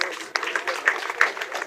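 A crowd at an outdoor district awards ceremony in Kirehe, Rwanda applauds briefly, a dense patter of hand claps heard over a speaking voice.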